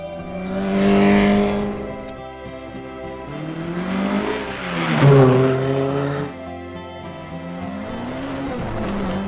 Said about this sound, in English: Even on such bad roads, cars were zooming past us.